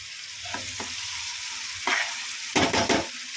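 Tomatoes fry in a pan for a dry Bombay duck masala, a steady soft sizzle broken by a few scraping stirs, with a louder burst of stirring near the end.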